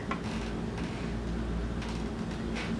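A sewing machine stitches down the side of a vinyl mini handbag, giving a steady close mechanical whir with a fast rhythmic ticking that runs without pause and no talking.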